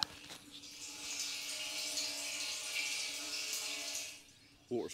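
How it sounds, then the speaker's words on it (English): Water falls a long way in a steady, hissing rush with a faint underlying hum, continuing evenly for several seconds before a brief break and a knock at the end. "Water's falling a long way."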